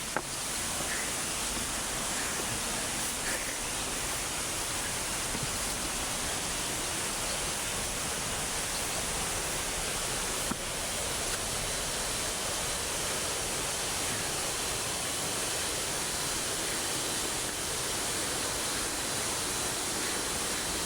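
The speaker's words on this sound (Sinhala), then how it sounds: "දියඇල්ලේ සද්දේ." Steady, dense roar of Kabaragala Ella waterfall near Mandaramnuwara fills the whole stretch, unbroken rushing water with no voices.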